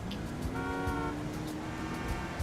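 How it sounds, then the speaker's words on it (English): A car horn sounds in a steady held honk for about half a second, heard from inside a moving car over road and engine noise. "And then they honk at me."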